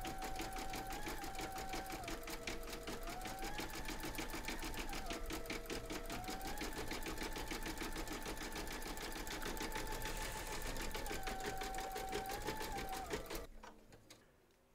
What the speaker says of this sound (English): Load your matching bobbin and thread colour for the satin stitching of the horn into your machine, and then stitch round number 9,